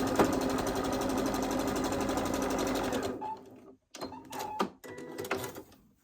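A sewing machine runs steadily and close while stitching a quilt block seam, a fast rhythmic whir for about three seconds, then stops and leaves scattered handling clicks and fabric rustles.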